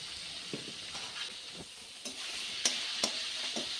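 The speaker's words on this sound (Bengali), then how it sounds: "ভালো করে নাড়াচাড়া করে নেব।" Salt and cumin powder being stirred into a vegetarian papad curry, a soft steady sizzle with a series of light scraping stirs at an uneven rhythm, close and moderately quiet, no voices.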